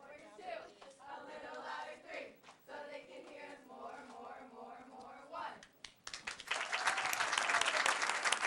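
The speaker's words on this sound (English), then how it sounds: "I think we got a cheer coming up, so let me hear the cheer." A township council meeting audience breaks into cheering and applause, a dense burst of clapping and voices that follows several seconds of someone talking.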